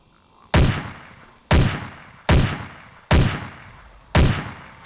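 Five loud, evenly spaced gunshots in the dinosaur-hunting game Carnivores, each a sharp blast with a long fading tail, about three-quarters of a second apart, heard alone.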